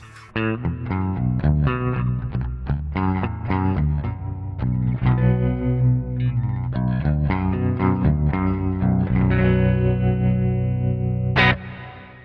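Electric guitar played through a Line 6 HX Stomp, its ring modulator set as a tremolo and blended with extra reverb for a spaghetti-western tone; a loud melodic line of plucked notes and pulsing chords runs continuously, ending with a bright strum.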